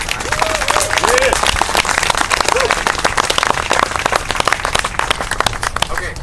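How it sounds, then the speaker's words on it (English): A crowd at an Occupy Tucson general assembly applauds loudly and continuously in a dense outdoor clatter of many hands, with faint voices and a few cheers scattered through it. "could we please get a round of applause for everybody who's been volunteering their time?"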